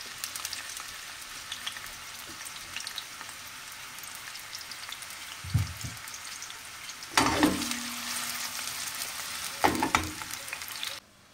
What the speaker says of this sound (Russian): Пока у нас тушится лук